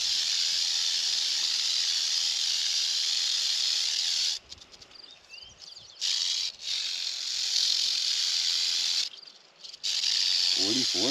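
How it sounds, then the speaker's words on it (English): A large timber rattlesnake, roughly four feet long, buzzes with a steady, loud dry rattle and hiss that runs almost continuously, broken by a few short pauses, with no talking over it. "He's a big snake."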